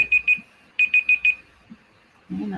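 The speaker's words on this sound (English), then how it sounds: "And that's how you turn the timer off." An electronic timer alarm beeps in quick bursts, two then four high-pitched tones, loud and close, followed by a short pause and the start of a voice.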